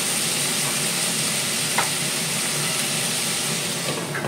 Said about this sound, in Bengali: আলু সাথে ভেজে নেবো একটু